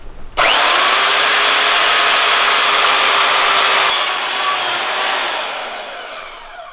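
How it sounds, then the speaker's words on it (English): A power saw blade cuts steadily through a double-walled stainless steel exhaust cap on a Bashan Motomax 250, a loud continuous high-pitched grinding whine that holds for several seconds before tapering slightly. "It's pretty rough on my blade because I cut through the cap"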